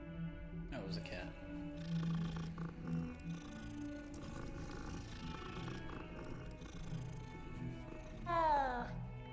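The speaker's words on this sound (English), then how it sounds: "That was a cat." A cat meows in the video game Hogwarts Legacy, two rising, wavering calls at the start and near the end over game ambience, with a person talking.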